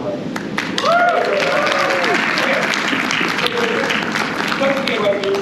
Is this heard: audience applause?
yes